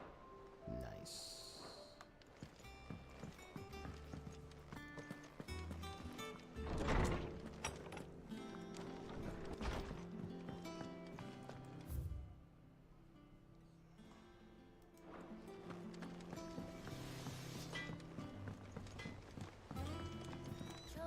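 Clive's chocobo Ambrosia runs in Final Fantasy 16, a steady clip-clop of footfalls with an occasional bird-like call, set under a continuous music score.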